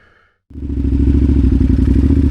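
An adventure motorcycle engine starts up loud and close after a brief quiet moment, then holds a steady rumbling, clattering drone while riding through snow.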